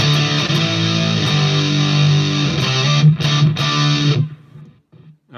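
Crunchy high-gain electric guitar through a Headrush Soldano amp model, loud sustained distorted chords with a few palm-muted stabs near the end before cutting off into quiet, no voices.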